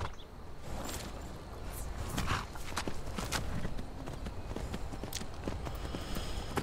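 Horse hooves clip-clopping steadily while riding in the video game Skyrim, a continuous rhythmic beat under dense outdoor game ambience with a few sharper knocks.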